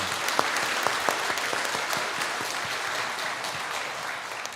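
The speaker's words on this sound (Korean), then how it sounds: "하나님께 영광의 박수를 한 번 올리도록 하겠습니다" A church congregation claps steadily for several seconds during a Sunday service, dense applause that fades slightly toward the end.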